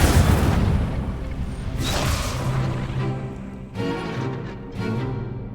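Whooshing, booming bursts of an Incendio fire spell cast in the video game Hogwarts Legacy, several loud blasts in quick succession, each trailing off into crackling decay.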